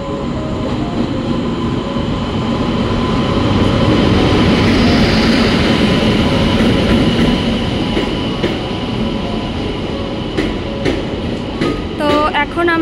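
Trains pass through the railway station at Cuttack, a loud, continuous rumble and rattle of wagons with faint voices nearby and a few sharp clanks near the end.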